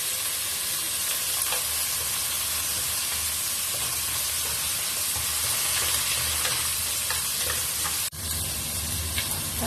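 Mushrooms and vegetables sautéing in cooking oil, a steady, fairly loud sizzle and hiss with occasional faint stirring sounds and a brief dip near the end.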